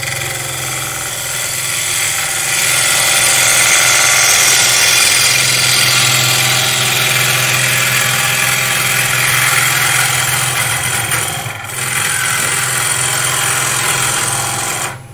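A wood lathe spins a plate while a long-handled gouge cuts it, giving a steady, loud hum and broadband rushing that runs continuously with a brief dip near the end.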